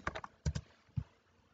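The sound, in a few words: typing on a computer keyboard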